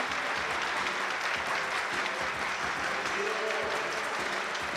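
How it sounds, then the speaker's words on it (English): Loud, steady cheering and applause from a crowd at a track and field throwing competition, sustained without a break for about five seconds. "you know they're cheering for this guy, Cooper Cerise"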